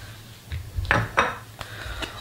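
Semi-wholemeal T110 flour mixed with salt in a bowl, a few soft scrapes and clinks of a utensil against the bowl, quiet and close, with no talking.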